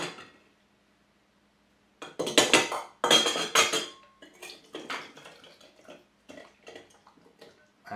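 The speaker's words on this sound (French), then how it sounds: "je vais prendre un grand entonnoir et je vais verser tout simplement jusqu'à temps que j'arrive jusqu'au bord quasiment." Lacto-fermented mango chutney spooned and poured through a large funnel into a jar, producing close clinking and scraping of utensils and glass in short irregular bursts after a brief silence.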